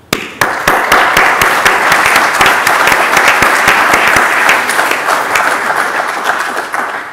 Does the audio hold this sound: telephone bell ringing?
no